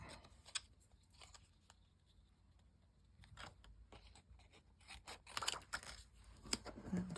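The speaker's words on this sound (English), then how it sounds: "we're just going to cut the acetate so that it covers the circle on the back" Scissors snip through a clear acetate sheet in a series of quiet, crisp cuts, sparse at first and then quicker and denser toward the end, close up and alone.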